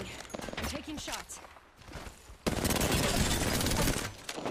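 Bursts of Apex Legends gunfire rattle in rapid, dense volleys. Talk runs over the first half, then a sharp onset of loud continuous fire takes over.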